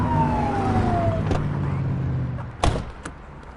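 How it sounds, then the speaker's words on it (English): A police car siren in the video game The Precinct rises and wails over a low engine drone, followed by a few sharp clicks and thuds near the end. "Get behind them and flip the siren and make them pull over."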